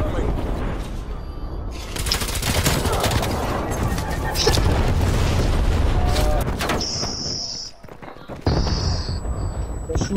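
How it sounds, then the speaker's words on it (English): Napalm strike in Call of Duty: Black Ops Cold War, a loud sustained roar of explosions and fire mixed with gunfire, then a brief lull and another blast, with voices talking over it. "Enemy napalm strike incoming."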